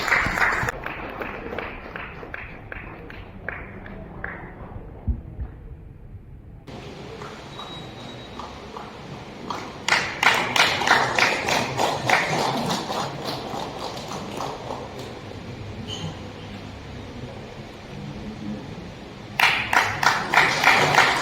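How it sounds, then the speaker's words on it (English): An audience at an angling competition prize ceremony claps for the winner. The clapping is rhythmic and comes in several bursts, louder toward the middle and at the end. "A round of applause to him."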